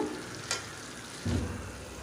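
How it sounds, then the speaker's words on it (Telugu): Brinjal slices frying in oil in a pan, a constant close hiss of sizzling with a brief spatter burst and a low scrape as the slices are turned. "ఇలాగ వంకాయలు అయితే రెండు వైపులా తిప్పుకొని ఫ్రై చేసుకోవాలి ఆయిల్లో"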